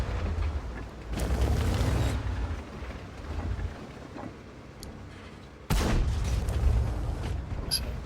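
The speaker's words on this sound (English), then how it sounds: "just shooting blind spots there, putting in some blind shots into known bushes" Tank cannon blind shots fired into bushes in World of Tanks, played as an Object 907: two heavy booming cannon blasts about four seconds apart, each with a rumbling tail over low battle ambience.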